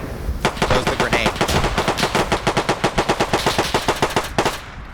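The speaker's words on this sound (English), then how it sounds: "Got some blind fire coming around over here" Rapid automatic gunfire in a WW2 video game, a steady fast burst of near, loud shots lasting about four seconds before cutting off.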